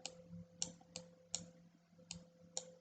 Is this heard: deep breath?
no